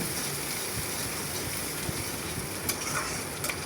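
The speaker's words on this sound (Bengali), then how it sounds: "এখন দিয়ে দিলাম প্রথমে কিছু তেল তারপর কুচানো পেঁয়াজ কাটা কুচানো পেঁয়াজ" Chopped onions sizzle in hot oil in a village-style kitchen, a steady broadband frying hiss running throughout with a few soft stirring clicks near the end, close and moderately loud, no talking.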